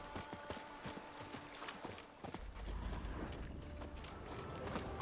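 Horse hooves clip-clop in The Witcher 3, a steady run of distinct hoofbeats at first that blurs into a denser, louder galloping rumble with ambient noise.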